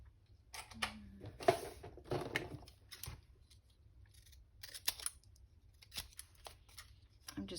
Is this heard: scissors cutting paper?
yes